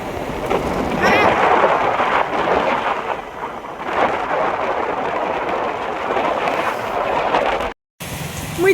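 Heavy rain pours steadily during a thunderstorm, a dense continuous wash with rumbling thunder swelling in places, brief cut near the end.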